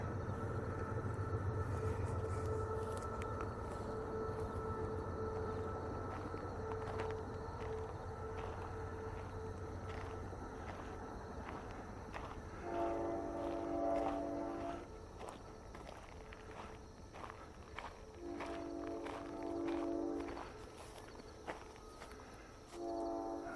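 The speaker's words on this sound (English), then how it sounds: "If I could time the whistles, I could determine how fast they're going." Train horn blasts from a passing train heard on a rural walk in Harvey County, Kansas, sounding in two or three sustained bursts at mid-distance over a steady low rumble and crunching footsteps.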